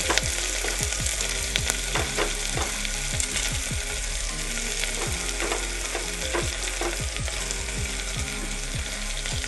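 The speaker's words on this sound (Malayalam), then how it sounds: "ഇളക്കി കൊടുക്കുക. ഒന്ന് വഴഞ്ഞ് വരുന്ന വരെ കുറച്ചൊന്ന് വഴന്നാൽ മതി" Garlic sautéing in a pan for a chickpea masala curry, a continuous loud sizzle broken by frequent quick stirring scrapes throughout, with no voices.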